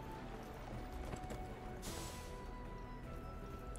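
Horse hooves clip-clop in the Neverwinter video game, a steady rhythmic trot heard faintly beneath game ambience.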